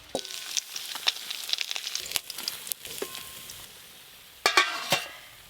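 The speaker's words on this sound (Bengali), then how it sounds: "তপসে মাছগুলো ভালো করে ভাজা হয়ে গেল" Topse fish frying in oil give a soft, uneven sizzle with scattered utensil clinks and scraping, quieter in the middle before a louder burst of crackling near the end.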